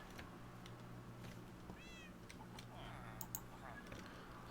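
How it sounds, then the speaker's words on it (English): Cats meowing in Minecraft, a few short mewing calls near the middle and later in the clip, fairly faint over a steady game background hum with light clicking. "I heard multiple cats"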